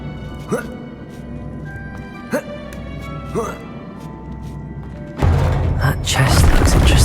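Depulso spell cast in Hogwarts Legacy: a few soft thumps and magical chimes early on, then a loud, sustained forceful blast of the push spell fills the last couple of seconds.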